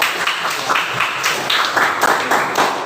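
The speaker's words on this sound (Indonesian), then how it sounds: "beri tepuk tangan buat" A classroom gives a student a short round of applause, steady dense clapping from many hands at moderate loudness, close by, with a faint voice under it.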